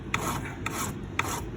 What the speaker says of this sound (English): you notice when I'm filing, I don't have this going with my file